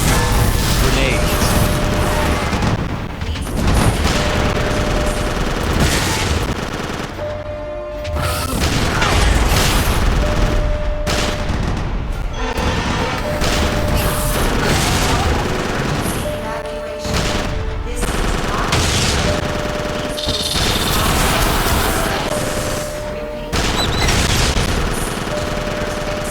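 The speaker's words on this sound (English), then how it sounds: "Grenades." Grenade explosions and rapid gunfire from the Konami Jurassic Park III arcade light gun game (2001) pound continuously, dense booms and bursts layered with game music and effects, loud and close.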